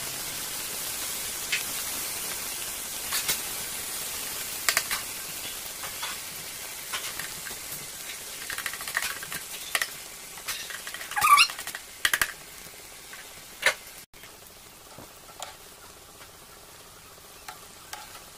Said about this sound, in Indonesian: lanjut lagi kita goreng ya semuanya